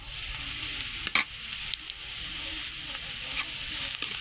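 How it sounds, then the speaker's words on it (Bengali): Chopped onion stirred and fried in hot oil while cooking khesari dal fritters: a steady broadband sizzle with a few louder scraping stirs, close and continuous, no talking. "পেঁয়াজ কুচি নাড়া দিব একটু কালার হওয়ার জন্য।"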